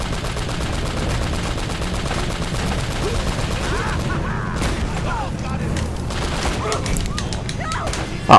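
Loud gunshots and bursts of automatic fire in the video game Uncharted: Drake's Fortune, dense and close over steady rumbling action noise, with a voice speaking briefly.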